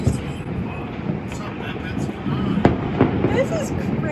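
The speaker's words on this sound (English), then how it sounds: "We have a whole fireworks show." New Year's fireworks show in Hawaii, with scattered cracks and booms over a steady crowd rumble, a couple of sharper bangs standing out near the end while people talk and cheer throughout.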